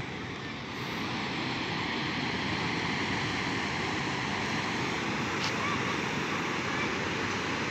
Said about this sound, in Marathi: कांबळेश्वर बंधाऱ्यावरून पाणी वाहत आहे